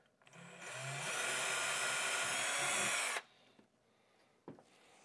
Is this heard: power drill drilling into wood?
yes